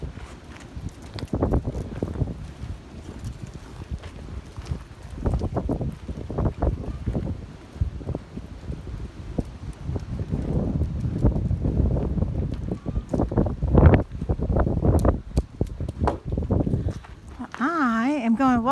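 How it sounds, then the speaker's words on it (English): Gusty wind buffets the microphone outdoors beside a stack of rough-cut sawmill lumber, where rafters are being built: a continuous low rumbling roar with irregular stronger gusts throughout. "get out of the wind"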